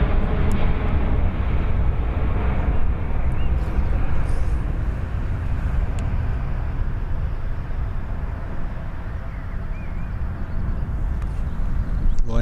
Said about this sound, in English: Ryanair coming in from Valencia.